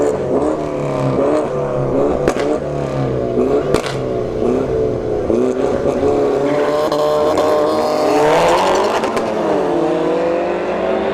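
Mini Cooper and Audi A3 drag racing down the strip at ShowTime Dragstrip, loud engines revving and climbing through gear shifts in repeated rising sweeps, with crowd noise and an announcer's voice underneath.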